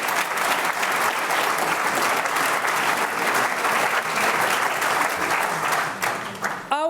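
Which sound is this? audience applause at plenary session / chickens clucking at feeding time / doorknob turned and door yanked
audience applause at plenary session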